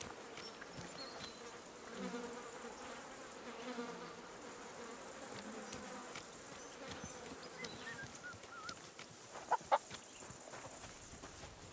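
Chickens cluck softly at a distance in the video game Kingdom Come: Deliverance 2, set against a steady insect buzz and rural ambience, with a couple of brief louder knocks near the end.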